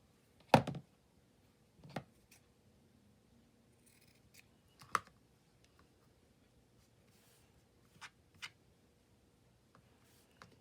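Scissors trimming craft material, several sharp isolated snips spaced out over quiet moments, close and crisp, with no talking.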